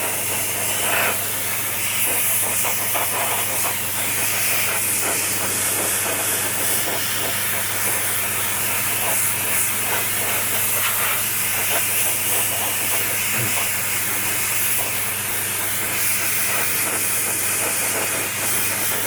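A quick, light coat of varnish is sprayed onto a model, a continuous close hiss that holds steady throughout over a low background rumble, with no voices.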